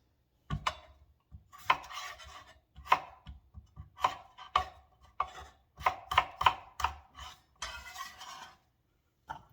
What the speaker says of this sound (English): potatoes are diced